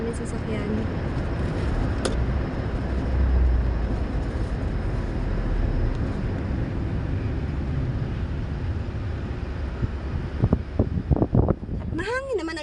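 Wind gusting through an open car window while driving, a steady roaring rush that fills the cabin, with speech near the end.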